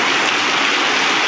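Rain falls steadily outdoors as a dense, continuous hiss, loud and unbroken, with no voices.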